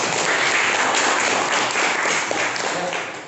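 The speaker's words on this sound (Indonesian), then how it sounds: "Nova, kita berikan tepuk tangan dulu untuk Nova." A classroom of students applauds a classmate, a dense, steady burst of clapping that fades slightly at the end.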